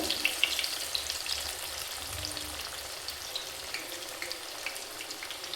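Chana dal masala vada fry on a medium flame with a constant bubbling sizzle of hot oil, a few faint clinks and a low hum underneath, no voices.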